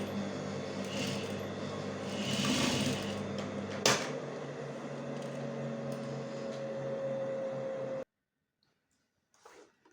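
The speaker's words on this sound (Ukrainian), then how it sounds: "Прокладаємо строчку, не забуваючи про закріпки." Sewing machine stitching a joining seam with enclosed raw edges in fabric, a steady close mechanical whir running for about eight seconds, then stopping abruptly into near silence with a faint brief rustle at the end.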